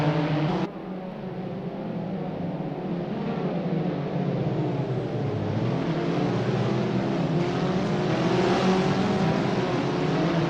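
A pack of Abarth 500 race cars launches at the start of a race at LuccaRing in Assetto Corsa, with engines droning and revving steadily and loudly throughout.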